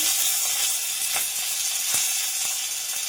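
Bay leaves with dried and green chillies sizzle in hot oil, a loud continuous hiss with occasional sharp pops and crackles, close up.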